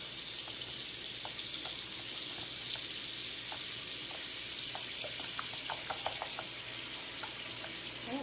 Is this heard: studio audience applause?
no